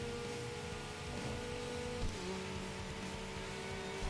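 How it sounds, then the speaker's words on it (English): A raspy race car engine drones at steady speed in the video game Tokyo Xtreme Racer, cruising on the Wangan highway, with a sustained buzzing tone that shifts pitch once midway. It plays at moderate volume without talk. "Oh, his engine sounds different."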